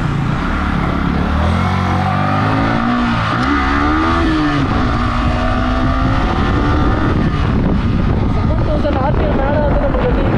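A Yamaha R15 V3 2022 model 155cc motorcycle ridden on the road, its engine revving loudly with rising and falling pitch over constant wind rush, close and continuous, with a rider talking over it.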